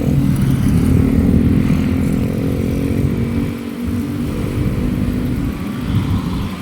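Motorcycle engine rumbling by on a busy city street in Bonifacio Global City, Taguig, a steady loud low drone that dips briefly midway amid surrounding traffic noise.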